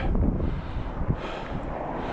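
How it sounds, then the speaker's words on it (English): Steady outdoor wind on a cold winter walk buffets the microphone in a continuous low roar, swelling in a few brief gusts, with no clear voices. "It's windy today."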